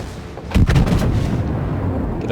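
A volley of battleship guns fires in a naval video game, a rapid cluster of deep booming blasts that roll and fade into a long rumbling tail, loud and close.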